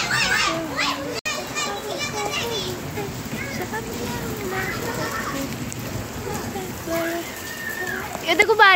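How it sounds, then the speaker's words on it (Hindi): Heavy rain pours down in Jammu, a steady broadband hiss running the whole time beneath children's lively chatter and play close by. "बारिश बहुत ज्यादा तेज हो गई है, कितनी तेज बारिश हो गई है,"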